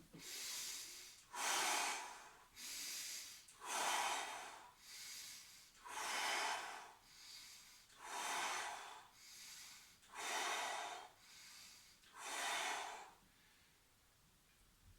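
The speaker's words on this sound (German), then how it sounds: "Einmal atme ich im Bauch ein und aus" Deep deliberate breathing exercise, alternating belly and chest breaths: about ten loud, close, airy inhales and exhales in a steady slow rhythm, each lasting about a second, with no talking, fading to quiet at the end.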